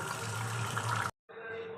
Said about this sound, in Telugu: దీన్ని డ్రైన్ చేసుకొని కూలింగ్ వాటర్ పోసుకోవాలి. ఇప్పుడు నూడిల్స్ని వడకట్టుకోవాలి.